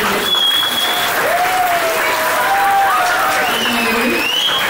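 Audience applause at the inauguration of a Sandalwood Cup shuttle badminton tournament, dense sustained clapping filling the hall, with whistles and cheering tones rising above it.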